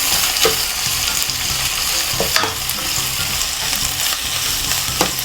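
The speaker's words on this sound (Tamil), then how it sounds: "இஞ்சி உள்ளி போட்டுட்டு அதையும் சேர்த்து வதக்குவோம்" Ginger and garlic sauté in a pan for a Jaffna-style chicken curry, making a loud continuous sizzle with a few sharp scrapes as they are stirred.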